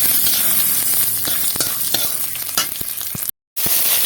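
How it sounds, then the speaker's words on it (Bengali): Cumin, green chili and bay leaves frying in mustard oil: loud, dense crackling sizzle close up, with stirring scrapes and a brief cut near the end. "জিরে লঙ্কা তেজপাতা ভেজে তুলে নেবো"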